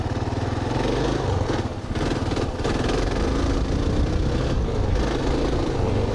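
A Kawasaki KLR 650 adventure motorcycle rides along a road, its single-cylinder engine throbbing loud and steady close up, with a brief dip in revs before pulling on evenly.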